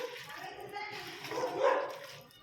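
Dogs barking in the distance, faint and outdoors, beneath a person talking nearby.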